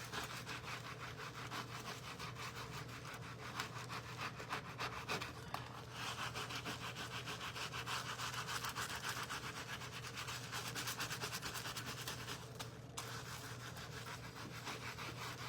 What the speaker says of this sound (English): Take my scrub brush.